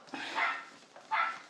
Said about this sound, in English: that dog, shut up!